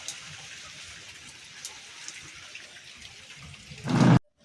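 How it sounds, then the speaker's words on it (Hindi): Steady light rain patters softly in the background, faint and continuous, ending in a brief louder burst of noise just before the clip cuts off. "बारिश बंद होने का नाम नहीं ले रही।"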